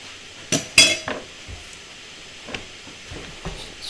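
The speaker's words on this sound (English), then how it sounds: "Let's finish chopping our onions" Knife chopping onions on a kitchen prep board, giving a few sharp, irregular clacks and taps, louder near the start and then sparser and softer, with no talking.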